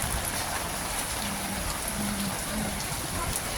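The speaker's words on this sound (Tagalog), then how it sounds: "Ulan." Steady rain falls across the whole stretch, a dense even hiss of drops with faint low murmurs underneath.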